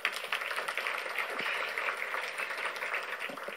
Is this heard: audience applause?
yes